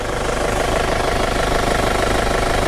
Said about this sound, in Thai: เดี๋ยวเราตั้งรอบเครื่องนิดนึงนะครับ รอบเครื่องมันต่ำไปหน่อยนะครับ